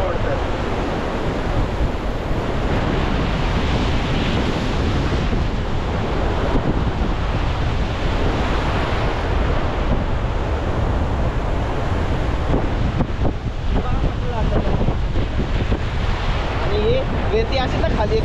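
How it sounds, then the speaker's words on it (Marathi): Fast, strong sea waves surging and pulling back at Diveagar beach on the Konkan coast, a loud continuous wash of surf mixed with wind buffeting the microphone, with voices talking over it. "खूप जास्त फास्ट वेव येतात यार."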